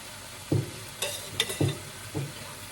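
Chopped onions hitting hot oil in a pan for momo filling, giving four short sizzling bursts with stirring scrapes between them, close and moderately loud.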